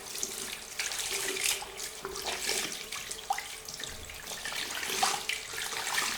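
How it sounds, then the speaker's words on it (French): A makeup glove is rinsed under running soapy water while being brushed, a steady splashing flow from a tap with scrubbing swishes and irregular surges, close and moderately quiet. "Il suffit de passer comme ça l'eau savonneuse en brossant, de rincer."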